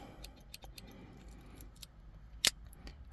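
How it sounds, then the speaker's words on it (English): Victorinox scissors handled in a car emergency kit, producing quiet scattered metallic clicks and taps with one sharper snip-like click near the end, close and soft. "Victorinox makes really good scissors, if you didn't know."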